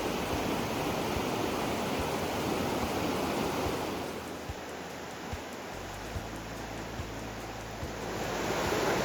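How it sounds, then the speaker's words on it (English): River rapids rushing along a backcountry stretch of the Foothills Trail, a steady broadband roar of churning water that runs through the whole clip and swells slightly toward the end. "Oh my, rapids."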